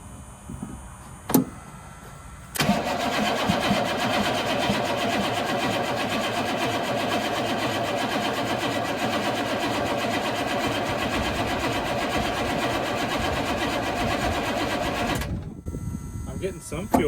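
A 1983 Chevrolet Squarebody with a 6.2 diesel fires up for the first time in years after a faint click; the engine then runs steadily and loudly for about twelve seconds before cutting off abruptly.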